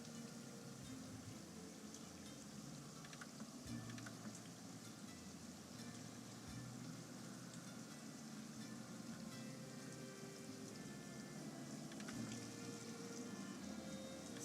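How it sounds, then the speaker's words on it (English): Steady rain pours down in the video game Nancy Drew: Danger By Design, a continuous even hiss of falling water with faint patter, moderately quiet and unbroken throughout. "Starting to hear rain come down."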